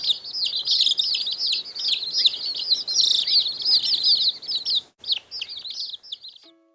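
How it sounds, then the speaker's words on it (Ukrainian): Baby chicks peep in a rapid, continuous stream of high, thin calls, several birds close by, with a short gap near the end before a few last peeps trail off. "Хто це там пищить малята? Здогадалися? Курчата."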